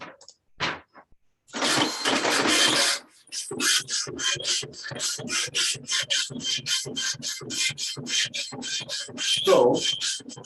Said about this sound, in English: while the printer is churning out pen